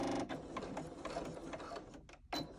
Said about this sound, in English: I'm going to do a stitch at a quarter inch.